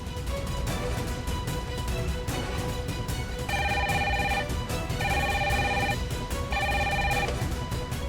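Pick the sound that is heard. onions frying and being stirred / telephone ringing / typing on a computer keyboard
telephone ringing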